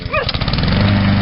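A running lawn mower gives off a loud, steady, rough engine drone close by, with a brief high dog yelp at the very start.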